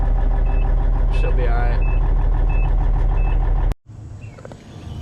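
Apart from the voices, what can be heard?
1991 Peterbilt 379 truck engine running with a slight misfire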